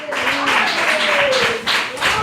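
A church congregation claps in a steady, rhythmic beat, the hand claps close and lively with a voice carrying over them.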